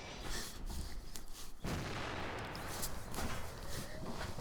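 A tank cannon fires in the video game World of Tanks, one sharp, heavy blast midway through a dense, continuous roar of engine and battle noise.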